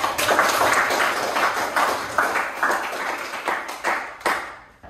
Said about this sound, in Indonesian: Sangat jelas, tepuk tangan.